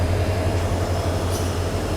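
A Mysuru–Bengaluru overnight passenger train led by a Krishnarajapuram-based locomotive runs steadily, heard from inside a crowded general coach as a constant low rumble with a faint high whine, no talking.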